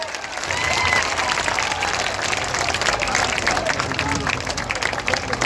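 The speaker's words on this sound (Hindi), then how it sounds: "जोरदार ताली बजाइए।" A large crowd at a political party founding convention in Patna applauds loudly and continuously, with dense clapping and some cheering filling the hall throughout.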